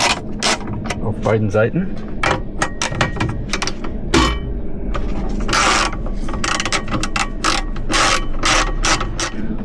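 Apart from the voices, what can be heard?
ratchet unscrewing front seat screws in VW T4 camper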